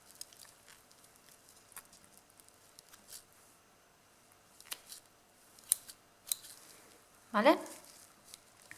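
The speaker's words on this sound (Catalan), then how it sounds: "recordeu sempre no posar les mans davant de les tisores" Scissors snip through a sheep's eye during a dissection, a few faint clicks and squishy cuts spaced apart before a louder, wetter cut near the end, with quiet handling noise throughout.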